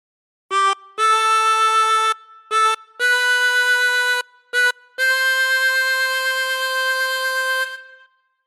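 A chromatic harmonica plays Joy to the World, clear sustained reedy notes in short phrases, separated by brief gaps and ending on a long held tone, solo with no talk.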